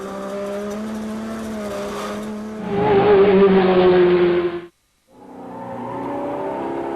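Race cars lapping a circuit near Siberia Corner, engines droning steadily, then a louder close pass with tyres scrubbing under heavy braking and cornering, a brief cut of silence, then engines resume at a distance.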